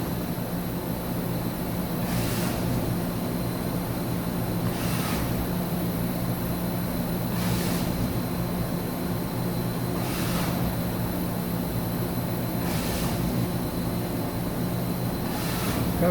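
Loud continuous drone from a 2013 Mazak HCN 4000-III horizontal machining center moving an axis at full 100% rapid, with regular whooshing surges every couple of seconds as the axis reverses, nearby and without speech.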